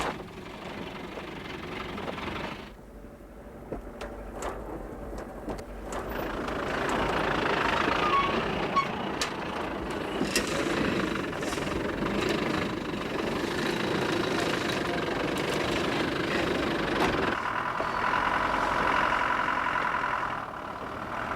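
A Land Rover engine labours along a rough rocky path with a steady, close mechanical drone that swells as the vehicle pushes on, with faint knocks and rattles over the top.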